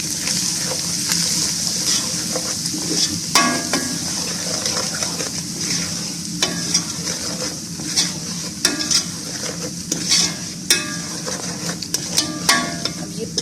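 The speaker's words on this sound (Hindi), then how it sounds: "अब इसमें ये मिर्च, नमक और हल्दी डालेंगे और थोड़ा सा इसको पकाएंगे।" Browned garlic paste frying in a pan as chili, salt and turmeric are added and stirred, giving a steady sizzle with scraping spoon strokes and light clinks against the pot, close and without talk.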